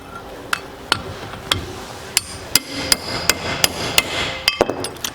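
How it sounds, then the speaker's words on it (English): A hammer taps down the hinge pin on a 1973-87 Chevy or GMC truck door, a dozen sharp metallic strikes at an irregular, quickening pace, loud and close, with no talking. "and I'll tap it down some"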